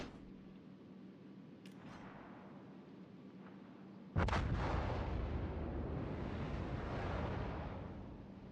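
A battleship fires a broadside in a naval video game: one sudden, heavy blast about midway that rolls into a long, loud rumble, after quieter distant booms and a low steady drone.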